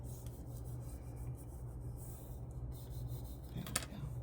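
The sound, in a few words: bone folder rubbing glue on paper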